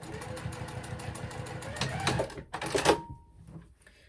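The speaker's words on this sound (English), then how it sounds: "I am top stitching it from the back side so that I can see that it's, folding down where I need it to." A sewing machine top-stitches a fabric clutch bag, its rapid mechanical needle chatter running steadily before slowing, stopping with a few clicks and a short whirr.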